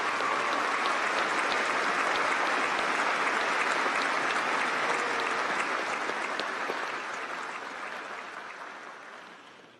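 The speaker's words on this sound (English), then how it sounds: "Please join me in applauding these individuals" Sustained applause from a large graduation audience honouring faculty, dense and steady clapping that holds for several seconds before gradually fading away.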